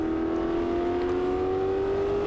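A McLaren M6B race car's engine roars steadily and loudly throughout, a strong sustained tone climbing slowly in pitch as it pulls, with no voices over it.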